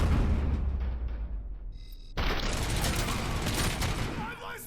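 Gunfire from a Robocop: Rogue City video game firefight, a dense loud fusillade of shots that grows heavier and more continuous partway through, with bursts layered over rumbling background action.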